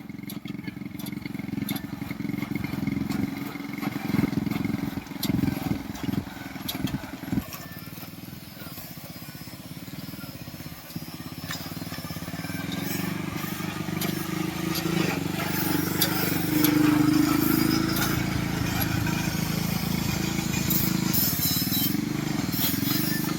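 A mini tractor built around a CD 100 motorcycle engine runs steadily on a farm, a continuous low engine drone with some clattering, holding fairly loud throughout.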